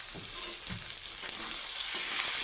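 Broiler chicken pieces fry and sizzle in a pan with green chilies and peas as they are stirred. A steady hiss carries on throughout, with soft scraping stirs underneath, and no one speaks.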